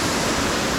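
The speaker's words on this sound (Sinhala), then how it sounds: "දැන් මේ ඉන්නේ දියැල ගාව." A wilderness waterfall on a mountain stream near Sripada Peak roars with a steady, dense rush of water, loud and close with no pauses.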